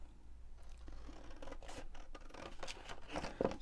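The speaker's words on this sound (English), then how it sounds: "So just cut up to that first score line like so." Scissors cut through cardstock up to a score line, with a series of close, crisp snips and rustling paper scrapes, quiet overall, while making an Easter gift box.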